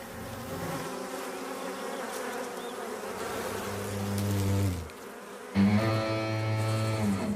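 Bees buzz in dense, droning layers during a hornet attack on the colony, a close, continuous hum that swells, briefly drops out, then returns louder and higher-pitched.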